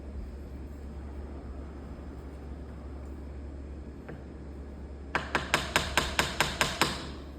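A hammer strikes a chisel while cutting a mortise for a knife hinge: about nine sharp, evenly spaced taps arrive in quick succession near the end, close and crisp, after a stretch of quiet room hum.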